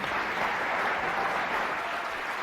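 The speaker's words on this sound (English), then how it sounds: "Clapping for our question, bro." Sustained audience applause from a crowd, a dense even roar of clapping heard without voices over it.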